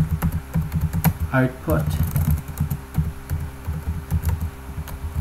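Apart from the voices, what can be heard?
typing on a computer keyboard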